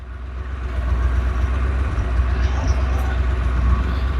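A Porsche 928 engine with a newly replaced fuel pump idles in a low, steady rumble that swells slightly early on and holds fairly even, close by and alone.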